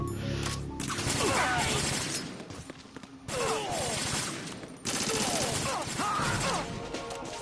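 Gunfire in Metal Gear Solid 2, with bursts of shots and clattering impacts in close repeated volleys over a busy game soundscape, with speech-like voices mixed in.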